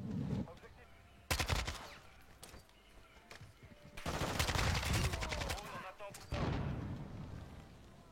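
Bursts of automatic gunfire in Modern Warfare 2 come through loud and close, with several rapid volleys separated by brief pauses and heavy booming impacts.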